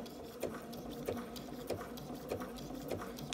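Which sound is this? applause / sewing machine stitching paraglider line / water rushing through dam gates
sewing machine stitching paraglider line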